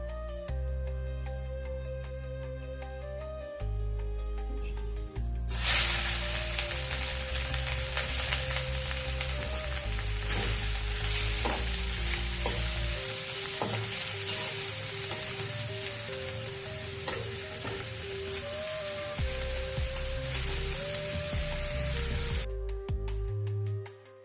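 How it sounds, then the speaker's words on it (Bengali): Grated carrots fry in ghee for gajorer payesh, a steady broadband sizzle that starts sharply after a few seconds of music and holds loud and continuous with stirring scrapes, then cuts off near the end. "আমি আগে ঘিয়ে হালকা ভেজে নিচ্ছি"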